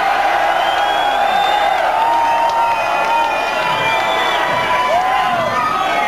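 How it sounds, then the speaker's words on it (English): A packed concert crowd at a show in Tijuana, 1993, cheering and whistling loudly and continuously, with shouts and whoops rising out of the roar. "This is one of my favorite crowds right here."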